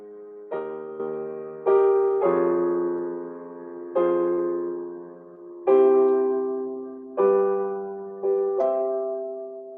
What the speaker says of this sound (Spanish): Ese es el primer coral.